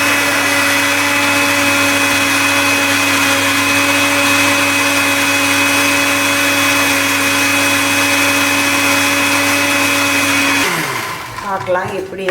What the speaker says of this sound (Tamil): கூட இந்த இஞ்சி பூண்டையும் மிக்சியில் போட்டு அரைச்சி எடுக்கணும்